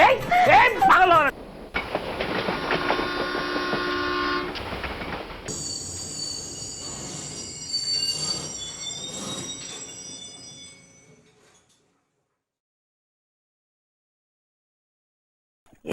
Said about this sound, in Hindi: ये ट्रेन क्यों रुक गई?